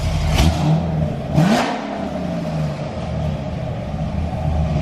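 A lifted 2019 Ford Raptor with new wheels gives two quick, loud throttle blips at close range, each rising roar falling back to a rumbling idle that carries on steadily afterward.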